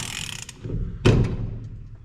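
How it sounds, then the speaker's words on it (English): A ratchet turns a bolt on a GM 10-bolt axle, giving a brief mechanical clicking burst with a stronger click cluster midway, close and moderately loud with no talk. "I want to do it with a ratchet."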